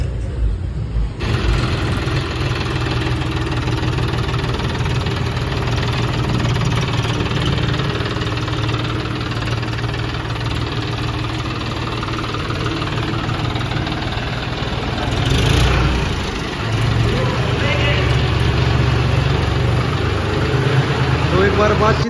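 A John Deere 5036D diesel tractor engine idles with a steady low rumble and knocking throb, close by and continuous, with a slight rev partway through.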